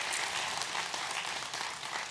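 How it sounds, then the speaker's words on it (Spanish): A church congregation gives a strong round of applause during a Spanish-language sermon, a steady, moderately distant patter of many hands that holds evenly for the short stretch. "quiero que demos un fuerte aplauso a todos aquellos que nos escuchan a través de esos audios"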